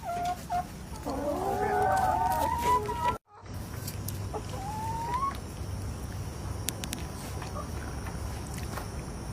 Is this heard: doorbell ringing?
no